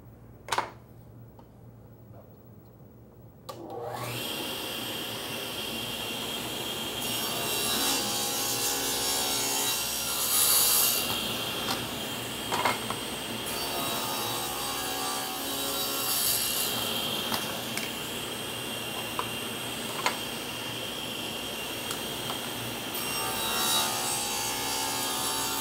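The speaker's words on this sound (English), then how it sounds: "we're ready to mill the grooves in all of our pieces" Grooves are milled into wooden face-frame cabinet rails and stiles, a loud sustained machine whine with a rough rasping cut that starts after a few quiet seconds and carries on steadily, close up, with occasional clicks and no talking.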